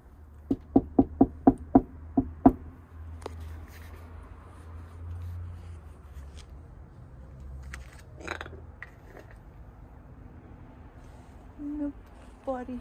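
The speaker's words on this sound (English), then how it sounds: "Let's knock." Knocking on a house door: a rapid series of about seven sharp, evenly spaced knuckle raps, then quieter background noises and scattered faint taps with people talking softly.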